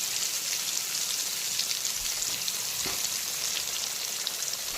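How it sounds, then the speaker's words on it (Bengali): Turmeric-coated potatoes deep frying in mustard oil give a constant close hiss and crackle, with steady bubbling sizzle throughout and no talk. "আলুগুলোকে একদম ডুবো তেলে ভেজে তুলে নেব"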